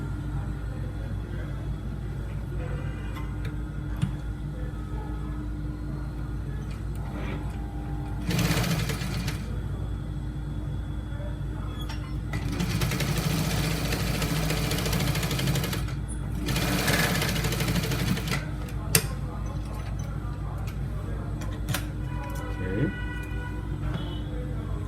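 A sewing machine stitches trouser fabric along the back of the gaiters, running in a steady close whir broken by louder, faster bursts of stitching.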